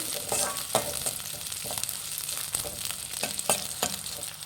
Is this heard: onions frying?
yes